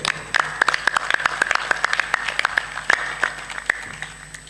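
Audience applause at a Hindi satsang, a crowd clapping in a steady patter of sharp individual claps that continues throughout at moderate loudness, no talk over it.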